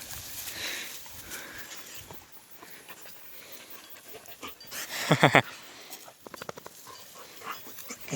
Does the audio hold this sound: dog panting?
yes